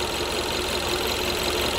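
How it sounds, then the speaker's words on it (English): A Kia Soul engine with low power that dies at stops runs while misfiring, a steady, rough mechanical drone with an uneven knocking undertone and no talk. "Now the engine is misfiring."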